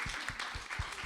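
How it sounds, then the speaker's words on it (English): Applause at a women's leadership side event, heard as a brief burst of clapping from the audience, steady and fairly loud throughout with no voices. "A big applause to Helen"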